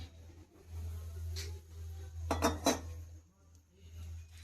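Semolina batter being mixed with water in a bowl, giving soft scraping and a couple of brief clinks of a spoon against the bowl over a steady low hum.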